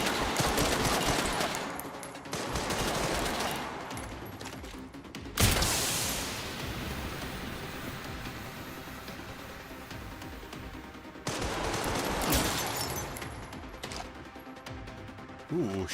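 Gunfire in Resident Evil 9: Requiem, heard as loud bursts of shots and clattering mechanical noise, starting and stopping abruptly in several separate bursts over a continuous game soundscape.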